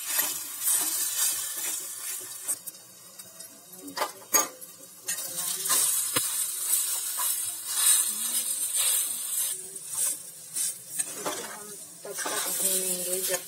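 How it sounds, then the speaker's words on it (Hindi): Urad dal paste frying on a low flame, a steady soft sizzle and hiss with occasional scraping stirs against the pan, close and continuous. "अब हम डालेंगे उड़द दाल की पीस। इसे बराबर धीमी आंच में भूनेंगे।"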